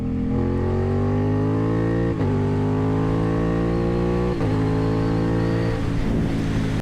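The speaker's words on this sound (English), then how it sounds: "I will do third gear pull for y'all" An Aprilia RS660 motorcycle pulling hard in third gear, its engine roaring loud and close as the pitch climbs steadily, with two quick gear-shift dips breaking the rising whine.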